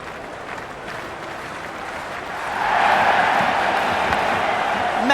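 A large crowd at an India versus England T20 cricket match, a steady roar of cheering and applause that swells and grows louder partway through and holds at that level.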